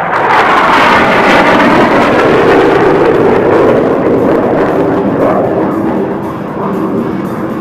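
A Russian MiG-21 fighter jet makes a low flyby, its engine a loud sustained roar that swells and then slowly fades as it passes, with no talking.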